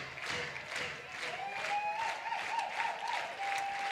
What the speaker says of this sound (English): Crowd to their feet here at the Rhodes House.